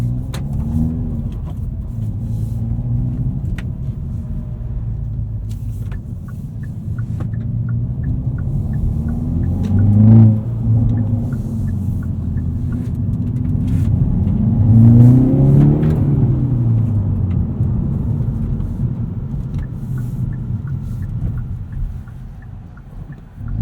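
A 2019 Hyundai Veloster N with the Performance Pack drives along, its engine rumbling steadily from inside the cabin and swelling into revving pushes around the middle of the run, with no talk.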